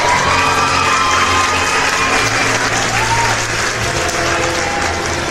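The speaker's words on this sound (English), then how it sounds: "Please be standing and give a round of applause for Alec, the Human Cannonball." Studio audience bursting into loud applause and cheering for a human cannonball act at a show, steady dense clapping with scattered whoops and children's shouts throughout.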